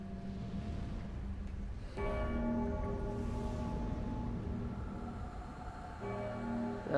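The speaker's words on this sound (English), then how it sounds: "That bell is quite large and quite loud." A huge, loud bell tolls in the video game Dark Souls III at the Nameless King's peak, two sustained ringing strikes with long humming decay over a low rumbling ambience, no talk.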